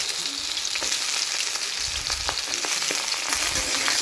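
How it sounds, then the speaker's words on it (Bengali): Mixed vegetables stir-frying in hot oil for a fish curry, a loud continuous sizzle with spatula scrapes and light clinks close by. "এখানে আমি সবজিগুলো দিয়ে নেড়ে চেড়ে হালকা নেড়ে চেড়ে ভেজে নেব"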